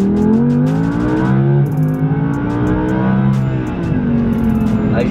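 An Audi R8 engine accelerates up through the revs, its tone rising steadily, dropping briefly at gear changes and climbing again, heard from inside the car, loud and continuous.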